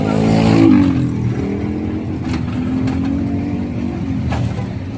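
A motorcycle engine on a road, a close, loud engine drone that swells briefly early on and then holds steady at a throaty pitch.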